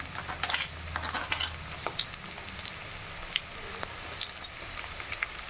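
Garlic, cumin, ginger and green chili thecha fry in hot oil with onion, giving a soft, steady crackling sizzle dotted with small pops close by.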